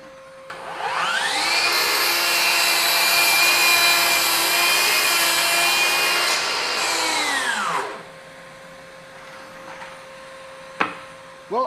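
A FLEX 24V brushless 12-inch dual bevel miter saw makes a compound miter cut in 3x4 lumber: the motor spins up to a loud, steady whine for about seven seconds, then winds down, followed by quiet and a single sharp knock near the end.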